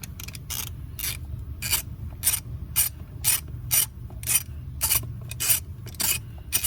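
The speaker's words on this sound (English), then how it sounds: "there's a bolt right here holding this harness on. So we're going to remove that with our E10 Torx" An E10 Torx tool ratchets out a harness bolt near the starter of a 2015 Porsche Macan S 3.0 V6, giving rapid, close clicking bursts in an uneven rhythm with brief pauses, no voices.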